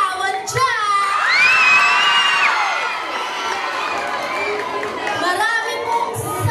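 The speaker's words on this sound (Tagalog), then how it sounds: "wala po bang palakpakan dyan? Wala po bang hiyawan dyan?" A crowd at the Miss Gay Royal Rumble 2025 pageant whoops, shouts and cheers loudly and continuously, with high excited voices rising above the general roar throughout.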